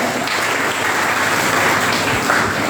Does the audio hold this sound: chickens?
no